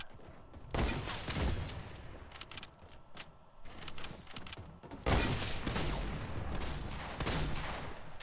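Rapid bursts of automatic gunfire from a gun in Fortnite team deathmatch, dense volleys crackling continuously with a short lull midway before another loud sustained burst.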